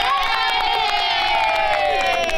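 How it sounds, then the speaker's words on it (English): An indoor crowd of children cheers and whoops for a volunteer at a ball challenge, a dense, loud burst of shouting voices that carries through the whole moment. "Give him a round of applause, guys."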